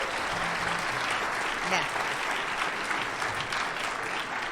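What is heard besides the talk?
audience applauding jazz soloist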